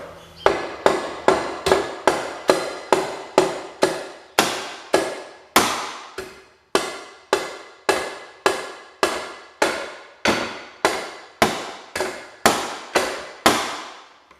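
Sharp, loud hammer blows strike a metal part on a 1968 John Deere 112 garden tractor, about twenty evenly spaced hits in a steady rhythm, each ringing briefly before the next, with no talk.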